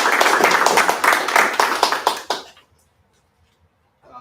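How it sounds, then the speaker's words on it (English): A small group at a Board of Education meeting claps for about two and a half seconds. The clapping is close, then quickly fades to near silence. "You can clap if you want."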